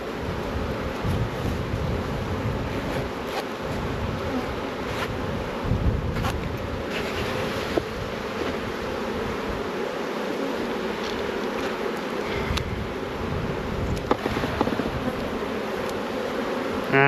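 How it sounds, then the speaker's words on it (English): Honey bees buzz in a steady, dense drone as frames are shaken roughly at a hive, the hum continuous and close with faint bumps from handling. "I'm being a bit rough with these bees shaking the frames"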